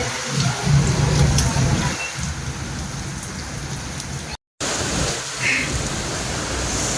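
Heavy rain pours down in Erode, water spraying and splashing as it gushes from a spout, a steady loud dense hiss with a short break near the end.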